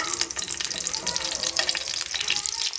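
Cumin seeds sizzle in hot ghee in a pan for Punjabi moth dal, a continuous loud bright crackling hiss with no pauses.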